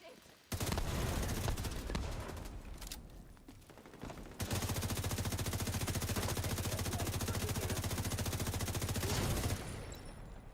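Sustained automatic gunfire in The Division 2, a loud continuous burst of rapid shots running almost the whole time with a short lull midway, close and dense.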